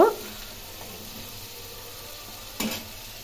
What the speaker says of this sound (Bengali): একটু ভালো করে তেলের মধ্যে ভেজে ভেজে মশলাটা কষিয়ে নিচ্ছি